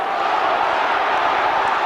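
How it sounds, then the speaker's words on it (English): Crowd at a Tottenham Hotspur v Lazio preseason football match, a steady, dense roar of cheering filling the stadium, loud and unbroken. "That's got the crowd going anyway."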